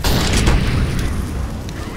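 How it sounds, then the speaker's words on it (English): A flashbang grenade detonating in CS:GO, a loud, dense, sustained burst of broadband noise with heavy low rumble that fills the whole moment without pause. "Putting down the smoke. Flashbang."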